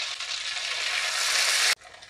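Ghevar batter poured into hot oil in a small tadka pan on a low flame bursts into a loud, steady, close sizzle that cuts off abruptly near the end, leaving a quieter bubbling.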